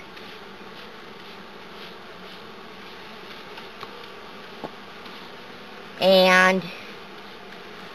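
A steady hum of honeybees buzzing close by in an open hive during powdered sugar treatment, with a brief louder, higher buzz near the end as one passes right by; a single spoken word.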